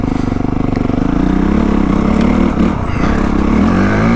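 A 2025 Honda CRF450R Works Edition dirt bike engine revs continuously on a frozen, snowy trail, a steady loud close drone with rising and falling pitch sweeps throughout.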